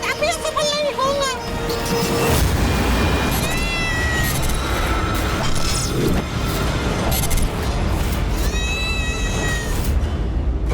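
A demonic cat meows and caterwauls loudly in repeated rising, wavering cries over a dense, crashing dramatic score, with a voice speaking intermittently beneath.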